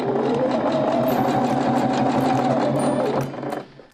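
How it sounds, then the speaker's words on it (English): A sewing machine stitches a pleated face covering in one steady, loud, close whirring run that slows and stops near the end, with no talking. "Sew around the sides with a 1/2 inch seam allowance."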